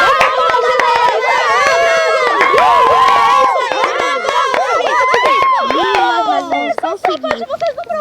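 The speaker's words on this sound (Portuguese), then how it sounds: "Salva de palmas!" An audience at a children's talent show cheers and claps for a girls' band, with excited voices and shouts layered over scattered clapping throughout.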